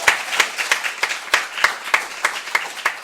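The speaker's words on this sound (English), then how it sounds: "Can we get a round of applause for that?" A small audience at a live talk show taping in Portland claps in a slow, even rhythm of about ten distinct claps over three seconds, close and moderately loud.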